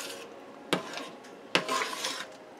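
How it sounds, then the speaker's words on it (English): Chili being stirred in a pot as sauce is mixed in, with scraping and clanking of a utensil against the pot, a few sharp knocks among softer rubbing strokes, close and without talk. "And I mix that in."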